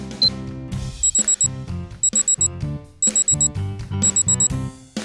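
A kitchen timer rings in a children's video game while a cake bakes in the oven, sounding as repeated clusters of bright electronic beeps in a quick regular pattern over a bouncy musical backing, with no voices.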